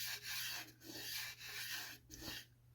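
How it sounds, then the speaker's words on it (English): English walnut sapwood platter being sanded on a lathe, steady rhythmic rubbing strokes over a low motor hum, fairly close and continuous. "I'm going to sand it and just be done."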